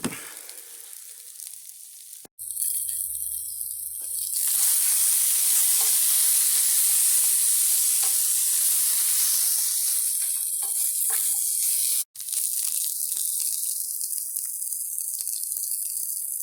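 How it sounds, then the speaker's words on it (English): Potatoes frying in a skillet outdoors in the woods give a loud, steady sizzle that stays constant throughout, with two brief cuts and no talking. "I'll just fry those up."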